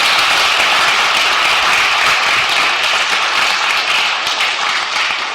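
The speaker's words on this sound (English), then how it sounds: "Can we give them a round of applause for hosting us?" An audience at an event on a higher-education campus gives a round of applause, a dense, sustained clapping from many hands that stays loud and fades slightly near the end.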